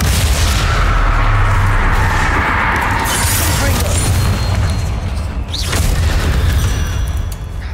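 In the Hogwarts Legacy video game, a Bombarda spell explodes in a loud, sustained, booming roar with crackling debris, dense and continuous, alongside other battle effects.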